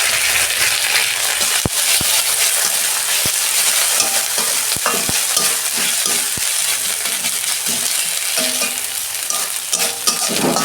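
Onions and ginger frying for dal, a loud, continuous crackling sizzle with sharp clicks and scrapes of stirring scattered throughout, close up and with no voices.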